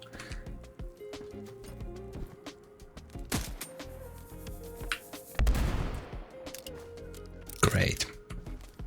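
Gunfire in a video game as barrels are shot: several sharp shot bursts stand out against game ambience with clip-clopping hooves, while a player talks throughout.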